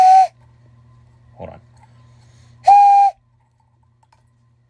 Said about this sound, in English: And this one is the right whistle.